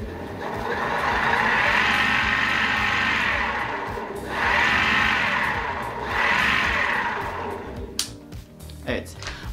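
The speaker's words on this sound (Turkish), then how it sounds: "Kontak açık gördüğünüz gibi gaz kolunu hafif çevirdiğimizde motorun döndüğünü" A 24V 200W electric bicycle hub motor spins up as the throttle is eased open, giving a steady whirring drone that swells and dips in two or three surges before cutting off into a few short clicks.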